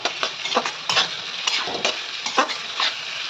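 Chopped onion, garlic, coriander and ginger go into a cooking pot over a soft sizzle. A utensil knocks and scrapes against the pot in quick, irregular strokes, close by and with no talk.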